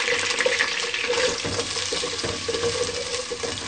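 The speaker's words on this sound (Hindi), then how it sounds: "अब हम इसमें प्याज डालेंगे।" Onions sizzle and crackle as they fry in hot oil for daal mash, a close, steady frying hiss with small popping bursts.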